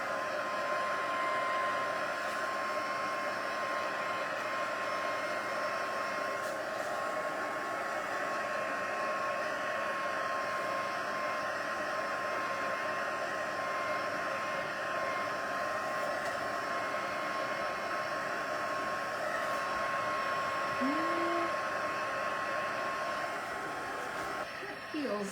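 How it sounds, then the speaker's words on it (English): A handheld craft heat tool blows continuously to dry a spritzed paper card, a steady loud whirring roar with a constant tone running the whole time, close by with no break. "we're going to use the heat tool to dry this, kind of flatten it back out"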